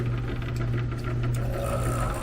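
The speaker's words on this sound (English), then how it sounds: "That motor, like I said in the past, I can't seem to quiet that motor down" Continuous low mechanical hum of a small rock tumbler motor running steadily, turning homemade ABS plumbing pipe barrels, with a faint rattling texture over the drone.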